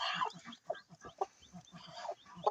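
A brooding hen that has hatched chicks clucks in short, soft bursts at close range, a steady murmuring series of low clucks with a few sharper notes.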